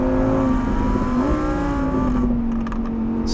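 Lamborghini V12 sports car engine revving hard toward 8,500 rpm, a loud, sustained high-pitched wail rising steadily, then easing off slightly as the revs drop near the end; no talking.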